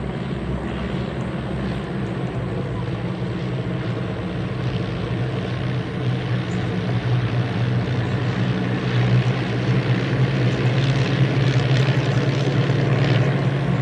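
Vintage piston aircraft engines roar steadily at the Duxford Battle of Britain airshow, a loud continuous propeller drone that swells slightly as the planes pass near, with no voices.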